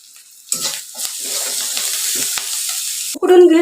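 Turmeric masala for vada pav is stirred in a pan, giving short scraping and sizzling bursts that build into a steady fry, louder toward the end.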